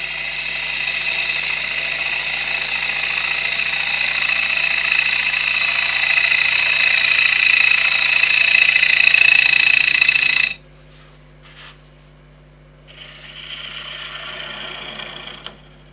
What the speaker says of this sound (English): I'll just use a smaller bowl gouge with a swept back grind just to carry on cleaning out the mortise